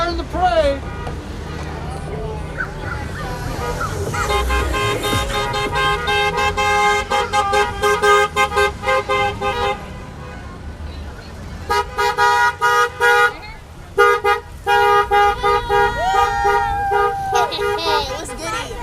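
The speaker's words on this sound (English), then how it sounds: "Cool car in the parade!" A car in a parade sounds its horn in repeated toots and longer blasts, loud and close, with crowd chatter and voices around it.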